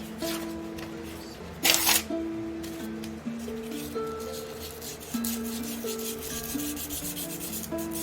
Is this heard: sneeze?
no